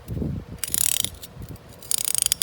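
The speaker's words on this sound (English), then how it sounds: "This is 90 tooth ratcheting wrenches." A Matco 90-tooth ratcheting wrench clicking in two quick bursts of fine, rapid ticks, close and crisp, with quieter handling sounds between them.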